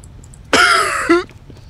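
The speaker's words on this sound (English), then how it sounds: "What, me coughing?" A single sharp throat-clearing cough bursts out loud and close, with a second rasping catch at the end, set against quiet game-chat background.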